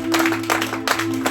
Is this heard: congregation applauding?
yes